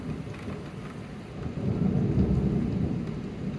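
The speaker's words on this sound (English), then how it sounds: "I just heard a really fucking close bolt of thunder." Thunder rumbles low and heavy in a storm, swelling midway through the clip over a steady wash of rain, with no voices.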